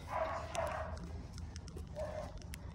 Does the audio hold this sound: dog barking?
yes